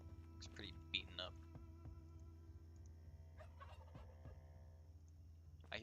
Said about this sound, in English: I hear some turkeys.